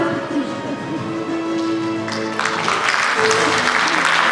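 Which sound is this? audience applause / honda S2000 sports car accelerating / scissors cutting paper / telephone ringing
audience applause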